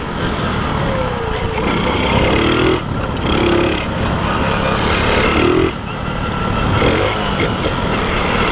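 A motorcycle exhaust rumbles and burbles loudly up close, its engine revving in uneven swells with no talking.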